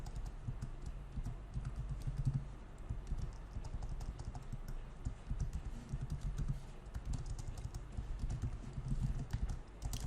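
Rapid computer keyboard typing fills the stretch, a steady patter of close, dense keystrokes with small bursts and pauses, no voices over it.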